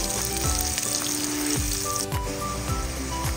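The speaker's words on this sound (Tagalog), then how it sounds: "igigisa na po natin ang ating bawang, sibuyas, luya at kamatis po sa patis" Garlic, onion, ginger and tomato sautéing in fish sauce for ginisang monggo, a steady close sizzle with repeated scraping strokes of a utensil against the pan and no talking.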